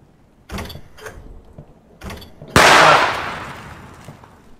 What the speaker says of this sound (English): Stupid gunshot sound effects.